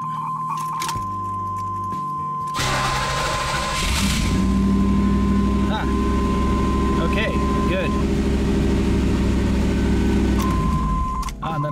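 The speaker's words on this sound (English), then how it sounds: "I'm going to see if the car will start." A car engine cranks and catches, then idles steadily with a low hum alongside a thin electrical whine and jingling keys, as an aftermarket alarm is disconnected. A voice speaks briefly at the start.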